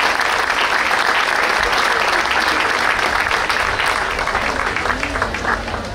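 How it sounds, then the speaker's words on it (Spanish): Sustained, dense applause from an audience at a neighbourhood cultural gathering in La Barrera, Valsequillo, filling the whole stretch loudly and evenly before tapering slightly toward the end. "ese fuerte aplauso para todas ellas"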